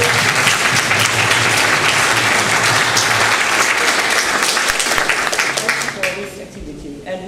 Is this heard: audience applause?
yes